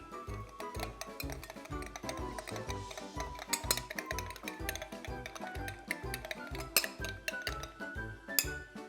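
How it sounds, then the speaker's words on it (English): A mixture for an elephant toothpaste experiment is stirred in a glass, with a utensil tapping and clinking against the glass in quick, steady, close repeated strokes and no voices. "giving that a good mix around there"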